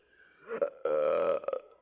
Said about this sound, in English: Confirmation burp from my angels.